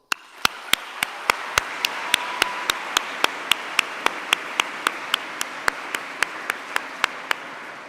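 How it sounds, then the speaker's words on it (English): Audience applause at a university welcome event in Segovia: a steady crowd wash with one nearby clapper striking sharply and evenly, about three claps a second, for nearly eight seconds. "Please join me, both in Segovia and Madrid, in giving yourselves a round of applause."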